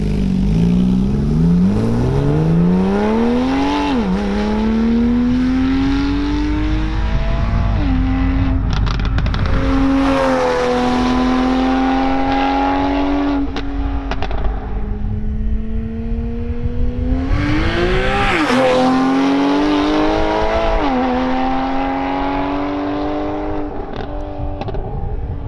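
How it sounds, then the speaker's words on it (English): A Porsche Carrera S with TechArt modifications revs and accelerates loudly in repeated rising pulls with brief drops between shifts, the engine close and dominant throughout with no talking. "The Carrera S Tech Art was definitely one of my favorite sounding cars."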